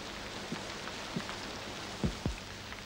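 Steady rain falls in the background while someone is told to climb aboard, with a few soft, thudding knocks as it patters on.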